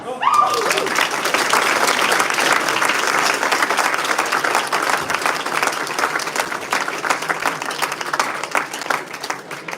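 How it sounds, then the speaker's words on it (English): Loud, sustained applause from an audience at a moot court competition livestream, a dense roar of many hands clapping that stays strong for several seconds before easing slightly. "a huge round of applause for"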